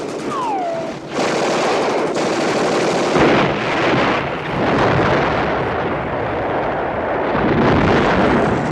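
Heavy gunfire in a shootout from a television action series roars almost continuously, with dense overlapping shots and loud, close booming bursts after a brief whistling sound at the start.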